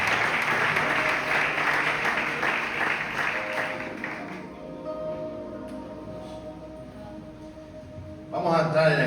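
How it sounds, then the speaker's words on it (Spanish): A church congregation applauds for about four seconds in a burst of clapping, then it fades into a quiet room with low murmuring before another sound swells at the end. "Le podemos dar un fuerte aplauso a su palabra."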